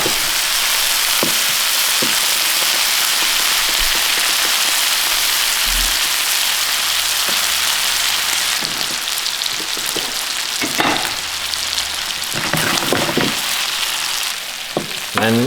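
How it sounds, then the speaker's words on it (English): Steak sears in butter in a hot pan, a constant loud crackling sizzle like heavy rain, with occasional clanks and scrapes of the pan and utensil breaking through near the end. "So get a nice sear on both sides, and then we'll go in with the butter."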